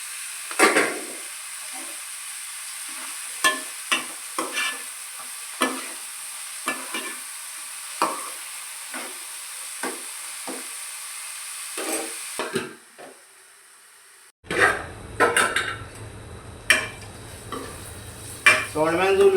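Curry leaves and green chillies frying in a pan, with repeated sharp utensil taps and scrapes over a bright hiss, a brief near-quiet gap, then a louder, fuller sizzle as more goes in.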